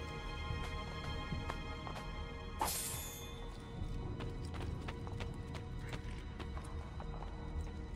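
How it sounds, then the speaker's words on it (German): Penned horses in the Assassin's Creed game at Rocca di Ravaldino clop their hooves and let out a whinny, close and moderately loud over ambient game background. "keine Ahnung, warum hier Pferde eingesperrt sind"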